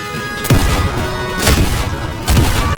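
Gunfire in the Roblox game Dead Rails: three sharp, loud shots roughly a second apart, each with a short broadband crack over a steady background rumble.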